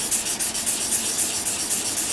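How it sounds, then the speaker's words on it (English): Steady, rhythmic rubbing of 600-grit sandpaper against polymer clay, close up, with repeated back-and-forth strokes and no talking. "just going to start sanding. And I'll start with the 600, like so."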